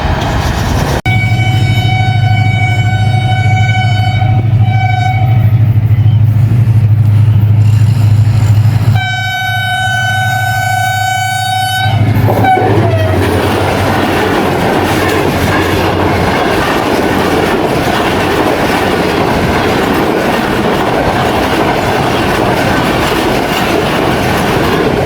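Pakistan Railways Up non-stop Karachi Express led by locomotive 8217 passes close by, its loud horn blaring in two long blasts over the heavy rumble and clatter of the wagons, which fade into rolling track noise.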